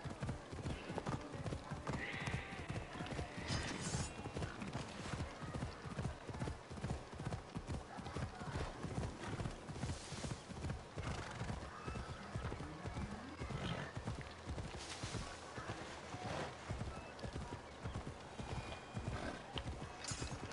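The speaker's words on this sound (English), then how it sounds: "I like my horse now." A horse's hooves clip-clop in a steady trotting rhythm in the video game Assassin's Creed Odyssey, with an occasional whinny, and someone talks at times over the hoofbeats.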